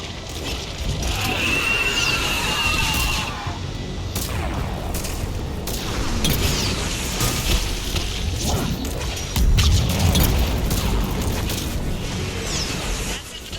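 Missile fire and explosions crash and boom during the fall of Thessia in Mass Effect 3, with whooshing launches, heavy impacts and steady battle rumble beneath occasional voices.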